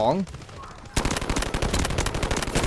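AK-12 rifle in the shooter game Delta Force Mobile opens up in a loud, rapid automatic burst that runs continuously for the second half, following a brief voice at the start.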